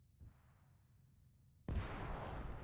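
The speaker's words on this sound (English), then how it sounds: "Another explosion goes off near the thing." Explosion in a military simulation video game: a low rumbling background steps up at once into a loud, sustained broadband blast and roar that continues to the end.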